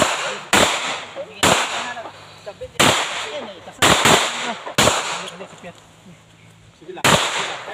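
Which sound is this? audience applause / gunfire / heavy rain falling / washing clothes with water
gunfire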